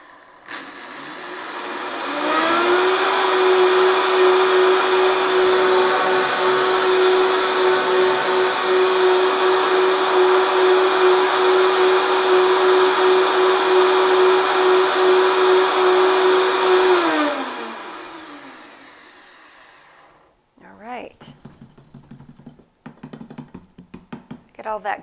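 A blender grinds dried kale into a finer powder, a loud steady whirring motor that runs continuously for about fifteen seconds and then winds down, followed by quieter rattling and handling sounds.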